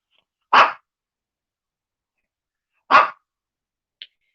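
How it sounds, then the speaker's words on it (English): A dog gives two sharp, single barks about two seconds apart, close and clear against silence, followed by a tiny faint yip. "Lolly, why do you bark when I go live? You don't bark any other time."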